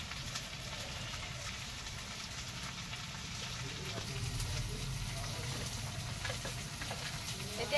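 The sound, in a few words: onions frying in oil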